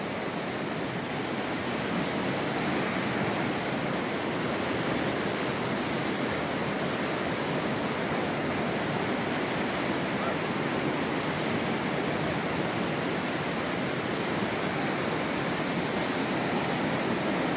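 Heavy monsoon rain in Wayanad, Kerala pours down as a steady, dense, loud hiss that carries on unbroken, with no voices over it.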